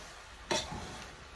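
Fajita pasta stirred in a pan: one quick scraping sweep of a utensil through the food, followed by a soft sizzle that fades. No voices.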